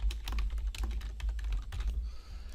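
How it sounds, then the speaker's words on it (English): Fast, close keystrokes clatter on a computer keyboard in a quick, uneven run of clicks as a new headline is typed in, with quiet room tone and no talk. "type in my new headline"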